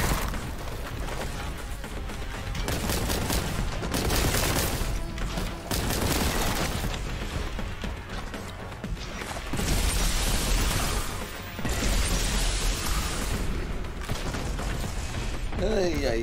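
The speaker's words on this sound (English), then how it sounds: "Ah, freaking plasma gun." Heavy plasma gun fire in the retro shooter Boltgun, with dense bursts of blasts and mechanical clatter running almost continuously, dipping briefly between volleys.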